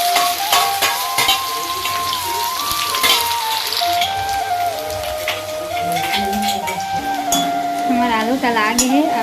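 Potatoes frying in hot oil in a pan, a loud continuous sizzle with crackling pops and occasional stirring, while people talk and music plays faintly in the background.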